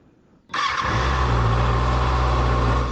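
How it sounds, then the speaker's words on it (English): A 2024 Kawasaki ZX6R 40th Anniversary Edition with aftermarket mods cold-starts: a quick crank, then the engine catches and settles into a loud, steady, close idle that runs to the end. "So we'll go ahead and get a cold start."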